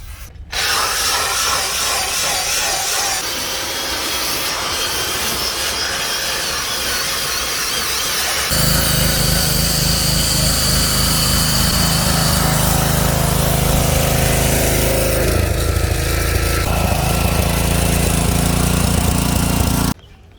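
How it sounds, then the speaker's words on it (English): A machine polisher buffs the paint of a Toyota Harrier, a continuous high whining motor with a rubbing squeal that shifts pitch midway as the pad pressure changes, loud and steady throughout with no talking. "So we're gonna polish this vehicle, put a ceramic coating on it"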